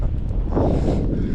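Steady outdoor wind buffeting a microphone while hiking Hadrian's Wall near Sycamore Gap, a continuous low rumbling roar with no voices.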